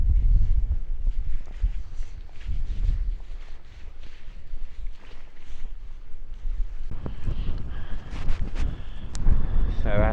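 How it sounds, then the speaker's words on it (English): Wind gusting at the Quiraing on Scotland's Isle of Skye: heavy, uneven buffeting roars against the microphone, with rumbling low gusts rising and falling throughout and a brief scrape of nearby handling noise near the end. "the wind's getting up a lot"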